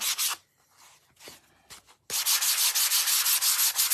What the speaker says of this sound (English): by giving it a light sanding, it not only smooths the surface